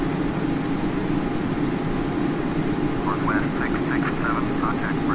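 A Cessna Citation CJ4X business jet climbs in the Prepar3D flight simulator, its engine noise a steady, even roar throughout, with a voice talking over it partway through.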